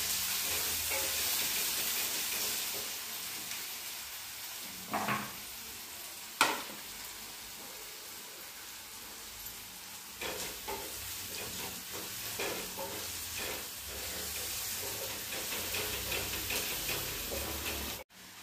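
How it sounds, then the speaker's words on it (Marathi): Chopped onion fries in hot oil, a soft steady sizzle with occasional stirring knocks and scrapes, faint and unvoiced throughout. "हे बघा या तेलामध्ये मी कांदा टाकला."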